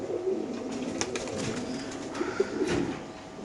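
Racing pigeons coo softly in a loft, a few low, throaty murmurs overlapping close by over a quiet background.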